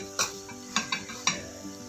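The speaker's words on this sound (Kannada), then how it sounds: "ಒಗ್ಗರಣೆನಲ್ಲಿ ಸ್ವಲ್ಪ ಚೆನ್ನಾಗಾಗಿದೆ ನೋಡಿ ಗಮ್ ಅಂತದೆ ಜೀರಿಗೆ ಶುಂಠಿ ಗಮ್ ಅನ್ನುತ್ತೆ ನೋಡಿ" Cumin and ginger tempering in hot oil for avarekallu upittu, with a few sharp scrapes and clinks of a stirring spoon against the pan over a faint sizzle, close and fairly quiet.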